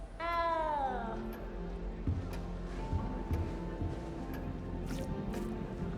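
A cat in the video game Hogwarts Legacy gives one clear, rising meow at the start, followed by quieter game ambience and soft scattered sounds.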